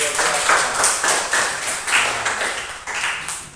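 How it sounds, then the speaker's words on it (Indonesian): Children clap their hands together in a classroom, a dense, fairly loud patter of many small hands with soft accents, steady for a few seconds without speech. "Oh semua, tepuk tangan dulu."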